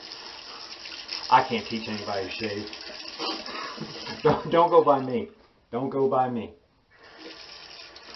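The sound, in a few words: tap water running for shaving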